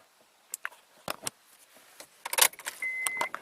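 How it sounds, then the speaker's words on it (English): Keys jangling and clicking at the ignition of a 2003 Honda Accord V6, a few short metallic rattles, then a steady electronic tone as the key turns to run, close and fairly quiet. "turn the ignition key to run"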